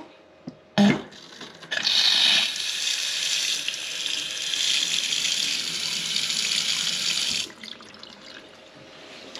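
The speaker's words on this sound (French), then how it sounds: "Voilà, j'ai remis l'eau." Water runs from a newly fitted kitchen mixer tap: a brief knock, then a steady close splash into the sink that keeps going for several seconds before cutting off.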